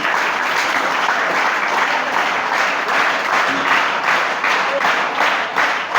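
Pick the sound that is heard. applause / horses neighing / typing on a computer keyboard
applause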